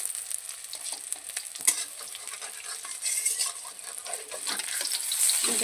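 Egg fritters and jute leaf fritters sizzle steadily in hot oil in a pan, with scraping clinks of a utensil as each one is turned over; the frying hiss swells slightly toward the end.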